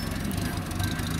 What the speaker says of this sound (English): It's running fine for a diesel, Neil, running fine for a diesel. Quite quiet for a diesel.